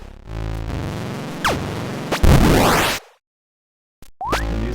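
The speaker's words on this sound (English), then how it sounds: "Throw a grenade down there. That. Get out of the way. Yeah, lots of grenades being tossed about." Grenades tossed and exploding in the video game Space Marine: several whooshing throws and sharp blasts in quick succession, loud and close, broken by a brief silent gap before another burst of combat noise.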